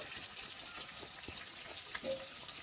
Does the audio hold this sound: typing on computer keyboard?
no